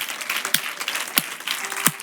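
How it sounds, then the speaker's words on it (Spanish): A church congregation applauds during a worship service, a steady wash of clapping hands filling the room, with a few sharper louder claps standing out at intervals. "le damos un gran aplauso al Señor"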